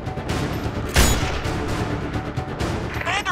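Gunfire rattles in the war game Sniper Ghost Warrior 2, a dense continuous fusillade with one heavier boom standing out early, all close and loud.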